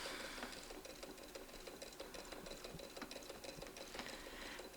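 A domestic sewing machine quilts a circular wreath along a ruler template with a ruler foot, running in a steady rapid whir of needle strokes throughout, close and fairly quiet.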